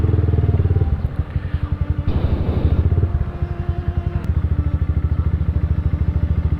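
Motorcycles riding along a flooded street in Panginay, Guiguinto, Bulacan, with a loud nearby engine putting steadily and a second rev and clatter passing midway, no talk.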